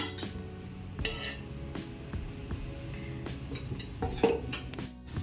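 Metal cookware clinks and clatters as a pan is set down on a stove, with a few sharp knocks and scrapes over a low kitchen hum.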